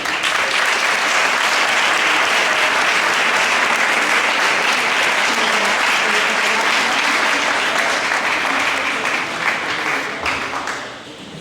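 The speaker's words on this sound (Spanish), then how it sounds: "Un aplauso para él." A theatre audience at a tribute event breaks into sustained, dense applause that fills the room evenly and loudly for several seconds, then thins out and fades near the end.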